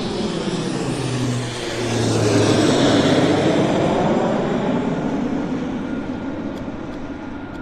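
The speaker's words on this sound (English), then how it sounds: "Here comes another King Air." A Beechcraft King Air medevac turboprop at Vancouver International Airport, a loud broadband engine roar that swells as it passes and then slowly fades, with a low droning tone underneath and no talk.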